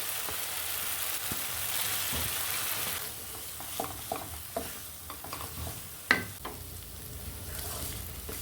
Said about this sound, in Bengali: এটাকে ভালো করে নাড়াচাড়া করে নেব, একটু ভাজা ভাজা করে নেব